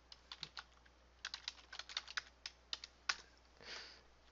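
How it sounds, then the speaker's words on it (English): A keyword being typed on a computer keyboard: a string of soft, close key clicks at an uneven pace, ending with a brief breathy rustle, in a quiet room. "you can type in the keyword into iSpionage"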